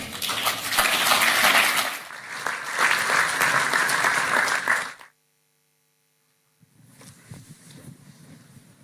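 Conference audience applauds the FIDIC President for about five seconds, loud dense clapping that cuts off into silence before a lighter patter of claps returns.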